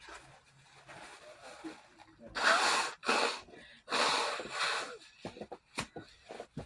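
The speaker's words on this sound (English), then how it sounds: "Excuse me, but I blow my nose." Someone blows their nose in several forceful, honking bursts, with sniffs and breathy noises in between, close to the listener.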